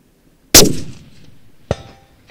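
A single loud, sharp rifle shot cracks out from a shooting position and decays quickly, followed about a second later by a shorter metallic clack, likely the bolt being worked.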